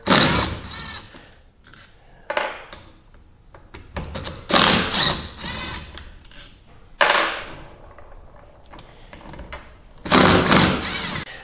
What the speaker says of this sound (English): Okay, so pull these bolts out of here.